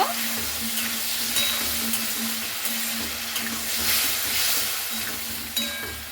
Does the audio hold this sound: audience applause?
no